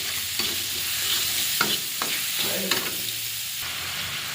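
Boiled spinach and taro stir-fried in a pan with bay leaf and cumin-coriander paste, giving a steady close sizzle with intermittent scraping and stirring clanks of a spatula against the pan.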